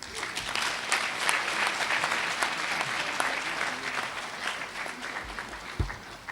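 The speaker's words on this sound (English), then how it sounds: "Please keep the applause going." Crowd at a university graduation ceremony applauds an honorary degree recipient, loud sustained clapping with sharp individual claps and a few low thumps near the end, no speech over it.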